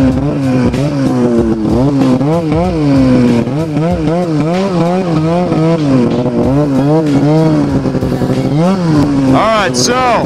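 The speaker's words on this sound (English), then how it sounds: "I'm riding the MXZ, super loud MXZ." A Ski-Doo MXZ 700 snowmobile being ridden in Vermont, its loud two-stroke engine close and constantly rising and falling in pitch as the throttle works, with a voice talking over it.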